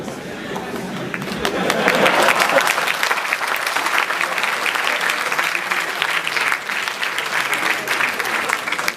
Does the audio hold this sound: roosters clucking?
no